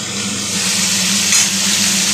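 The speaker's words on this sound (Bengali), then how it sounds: "ডাঁটাগুলোকে আমি ভালো করে ভেজে নেব।" Drumstick stalks fry in oil in a pan, giving a steady, close, loud sizzle with a constant crackling hiss throughout.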